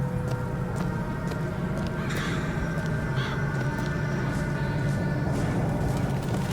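In Bioshock Infinite, the Murder of Crows vigor brings a couple of harsh crow caws over a steady, loud bed of game noise.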